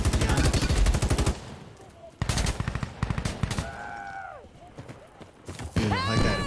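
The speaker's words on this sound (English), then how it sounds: "we're getting shot from behind." Gunfire in the video game Insurgency: Sandstorm, rapid loud bursts of shots in two stretches separated by a lull with quieter game sounds, and more fire starting again at the end; players talk throughout.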